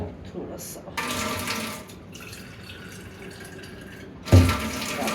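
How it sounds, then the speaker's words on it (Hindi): Water is poured into a pot to make tea in a home kitchen, with gushing splashes close by and a short metallic clank near the end. "जल्दी जल्दी डालते हैं इसमें पानी"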